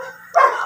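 A large, oversized puppy lets out one short, loud bark close to the microphone, following a brief whimpering tone.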